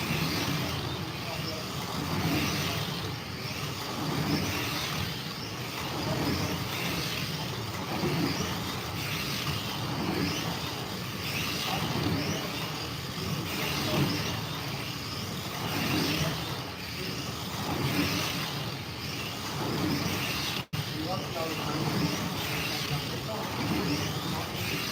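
1:32 scale winged sprint slot cars racing around a track, a steady whining motor drone that swells and dips continuously for the whole stretch, with people talking over it.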